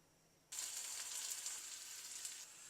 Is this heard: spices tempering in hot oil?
yes